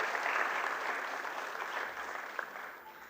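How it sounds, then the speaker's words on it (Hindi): Loud, sustained applause from a festival inauguration audience in Patna, a dense, even wash of many clapping hands that slowly tapers off without talk. "तो सर के लिए भी हम चाहेंगे कि एक जोरदार ताली हो"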